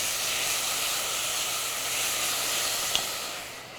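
Onions sizzle and caramelize in a hot pan while they cook down for a Sunday sauce, giving a steady, soft hiss with one small click near the end.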